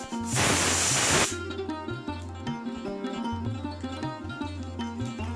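Nigella seeds hit a spoonful of hot white cooking oil in a wok, giving a loud burst of broadband sizzle and crackle that fades after about a second, leaving faint low background sound.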